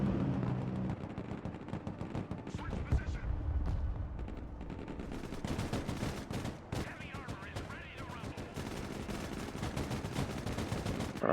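Dense, continuous battlefield fire from the real-time tactics game Broken Arrow as tanks take high-explosive rounds, with rolling blasts and rattling bursts layered throughout, loud and sustained, with voices talking over the din.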